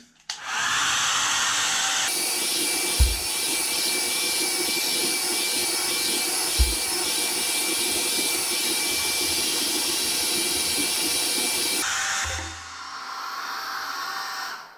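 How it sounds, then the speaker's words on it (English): A hair dryer blowing on a man's hair roars in a loud, steady close-up whoosh for about ten seconds, with a couple of soft bumps, then drops to a lower setting near the end. "So here we go, round 2 of blow drying."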